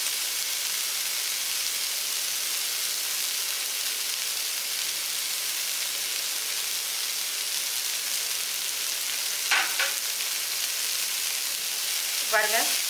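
Sprouted green gram and grated coconut sizzle in hot oil in a pan, a steady close hiss running throughout with a couple of brief stirring scrapes near the end, no voices.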